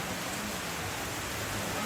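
Heavy rain falls during a condolence church service in Palopo, making a steady, dense, even hiss that fills the whole stretch without letting up.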